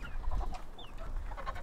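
A hen clucks on a farm in Kythera, Greece, a few soft close clucks over a low background murmur, with a faint bird chirp in between.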